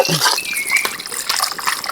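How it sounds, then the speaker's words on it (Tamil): Tamarind water is poured into a clay pot of fish curry, a short, close, splashing gush of liquid lasting about two seconds. "அதோட புளி தண்ணியை இப்போ சேர்த்துக்கலாம்"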